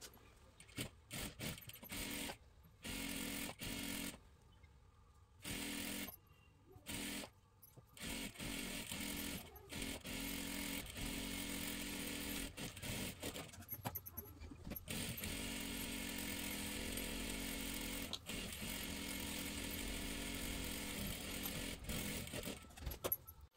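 A sewing machine double-stitches the seam of a salwar, its motor whirring in short start-stop bursts before settling into a long, steady run close by.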